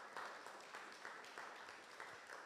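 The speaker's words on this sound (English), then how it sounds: "please give a big applause to Professor Ms." Quiet, distant applause for a speaker at a music education conference, a soft continuous patter of many hands clapping at a low level.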